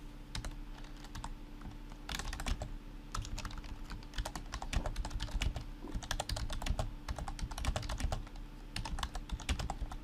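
Rapid typing on a slanted computer keyboard, quick clusters of close, crisp key clicks with short pauses between bursts, over a quiet background hum.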